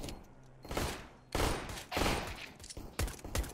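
Gunfire in Counter-Strike: Global Offensive, several loud close bursts of automatic shots separated by short pauses, with quieter game sounds between.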